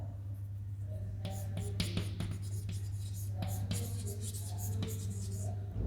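Chalk or marker writing on a classroom board during a physics lecture on torque, a steady run of short scratchy strokes and taps over a constant low electrical hum, fairly close and moderate in level.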